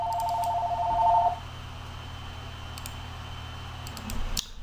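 Telephone dialing tones: a steady two-tone dial beep for about a second, then quiet line hiss with a few light clicks and a final click near the end.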